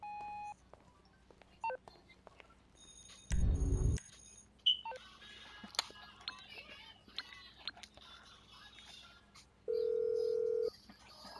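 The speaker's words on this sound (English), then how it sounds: "That's the freaking phone." A phone call placed in Grand Theft Auto V, with DTMF dialing beeps, a burst of tones, then a steady ringing tone near the end, set among scattered game sound effects.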